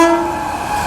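Train passing close by at a crossing in India with its horn sounding: a loud, steady tonal blare over a dense rumble of moving carriages, brief and continuous.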